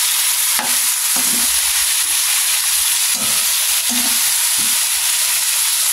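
Dalag (mudfish) fries in a pan with a steady, loud sizzle and hiss, broken now and then by brief stirring scrapes and clinks; no voices.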